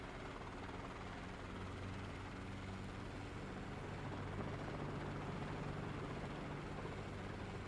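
Helicopter engine and rotor drone from a flight simulator in VR, a steady loud whir with a low rotor throb running continuously throughout with no talking.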